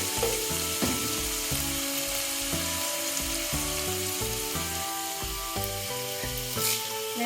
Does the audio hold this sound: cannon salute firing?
no